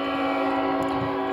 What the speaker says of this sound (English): Here comes the train to interrupt everything.